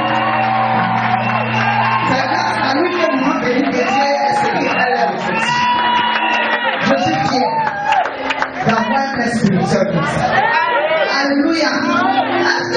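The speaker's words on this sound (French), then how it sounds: "Je veux qu'on donne une offrande d'acclamation puissante." A worship concert crowd of praise and adoration erupts in loud cheering, shouting and whooping, with voices crying out continuously and densely over about twelve seconds.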